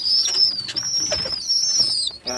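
A young pigeon chick calls nonstop in a thin, high, wavering peep, loud and close, with soft rustling under it and a short break just before the end.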